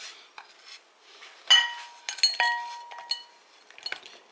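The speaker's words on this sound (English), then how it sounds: "you want to transfer your yummy delicious food into a bowl" Stir-fried chicken fries and vegetables being transferred into a bowl, with close, bright clinks of utensils against dishes, a few sharp ringing knocks among softer scraping.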